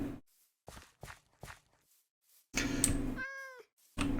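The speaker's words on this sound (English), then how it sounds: "Hello, cat." A cat meows in the Minecraft video game: several short soft calls at first, then a louder, longer meow followed by a rising, wavering cry, all close and clear with no talking.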